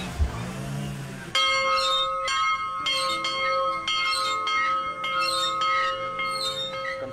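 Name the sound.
village bell rung to announce the doctor's arrival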